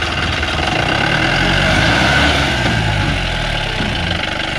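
A car engine labours loudly and continuously as the vehicle, which lacks four-wheel drive, strains to climb a steep rock on an off-road track, with a dense steady roar close by.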